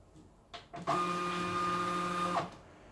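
A Zebra GT800 barcode printer runs a label-feed cycle after its button is pressed: a couple of soft clicks, then a steady motor whir with a mechanical hum lasting about one and a half seconds before stopping cleanly, heard up close with no talking.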